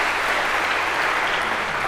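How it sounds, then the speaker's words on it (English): A lecture hall audience bursts into continuous applause, a loud, dense wash of many hands clapping at once that stays constant through the full two seconds with no pauses or voices. "And now we get your round of applause"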